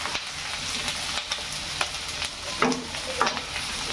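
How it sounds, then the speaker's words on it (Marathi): Capsicum and onion frying in a pan for paneer chilli, stirred with a spoon: a continuous sizzle with repeated scraping strokes of the utensil against the pan, close and steady, no talking. "आपण शिमला मिरची टाकून घेऊ आणि व्यवस्थित याला ढवळून घ्यायचं आहे आपल्याला"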